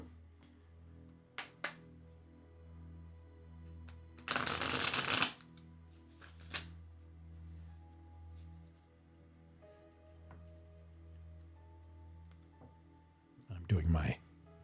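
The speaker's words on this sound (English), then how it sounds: "I'm going to start shuffling this magical deck all over again" A tarot card deck being shuffled in two short, loud riffling bursts separated by quiet stretches, over a steady low background hum.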